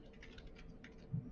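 Quiet, quick keystrokes on a computer keyboard, a short run of light clicks in an irregular rhythm with one slightly heavier tap near the end, nearby and alone.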